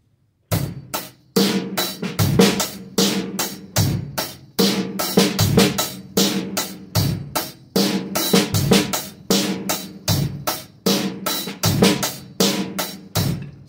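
A drum kit plays a steady eighth-note groove with loud backbeat hits and soft ghost notes on the snare, close and dry, repeating evenly for several bars with no talking.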